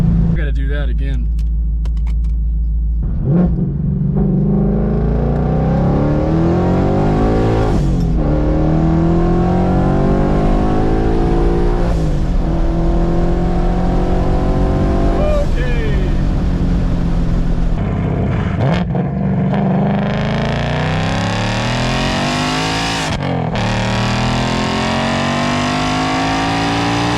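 A car engine fitted with a Hellion twin turbo kit revs hard and loud, rising and falling in repeated sweeping pulls with turbo whine, close by.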